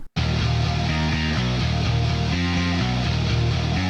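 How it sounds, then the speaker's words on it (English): Electric guitar played through a pitch shifter placed before the amplifier, blended with the dry signal for a weird synthy power chord tone in a cover song; loud, chugging chord rhythm after a brief pause at the start. "making it kind of this weird synthy power chord sound"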